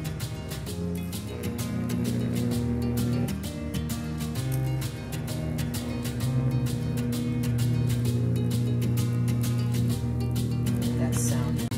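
A loud, continuous plasma arc discharge forming a tornado crackles and buzzes steadily with a deep hum underneath, sustained and harsh throughout.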